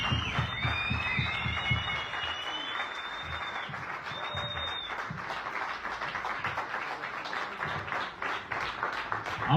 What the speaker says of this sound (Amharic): ጭብጨባ ያንሳል።